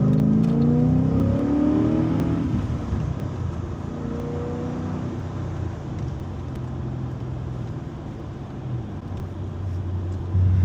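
An HSV VE Maloo R8 ute with a 6.2 litre V8 and six-speed manual pulls away, its engine note rising through the gears in rising sweeps before settling into a steady low cruising drone.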